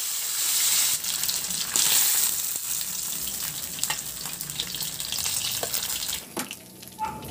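Tilapia frying in oil in a pan, a continuous close sizzle and crackle with some shifting and stirring noises, briefly quieter near the end.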